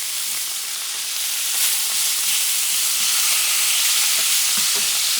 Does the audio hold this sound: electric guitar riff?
no